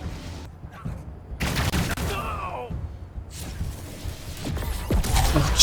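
Bursts of gunfire and explosive booms from a Wasteland 3 raid battle against scar collectors, repeated volleys over continuous game noise with some speech-like voices mixed in.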